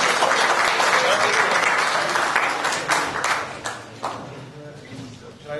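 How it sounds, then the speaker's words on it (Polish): Applause for a third-place award winner in the over-50 category at a local council ceremony, loud and dense at first, then thinning into scattered claps as voices break through. "Duże brawa"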